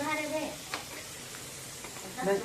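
Fish frying in a pan at home, a quiet steady sizzle with brief scraping from tongs, a voice talking at the start and again near the end.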